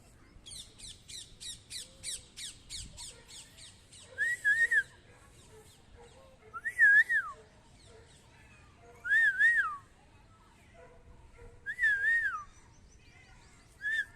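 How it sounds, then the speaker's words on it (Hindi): A person's whistle calling a mother cat near her kittens: a rapid run of short chirpy whistles, then four separate rising-and-falling whistled calls spaced a couple of seconds apart, fairly close and clear over a quiet background. "माँ मैं सीटी मारता हूँ तब आती है।"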